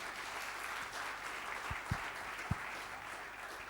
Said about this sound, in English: So give you a huge round of applause for Pooja Bhatt.